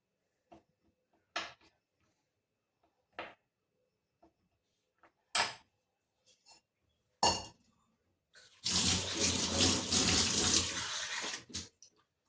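A few scattered clinks and taps, then water pours steadily for about three seconds nearby into a mixture with wheat flour before stopping.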